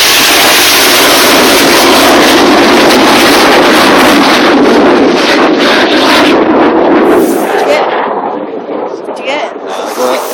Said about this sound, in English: These 4 aircraft are known as Jippo, and this is the Jippo Pass.